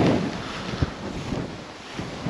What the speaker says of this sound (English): she's bloody cold and windy today